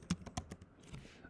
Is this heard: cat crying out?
no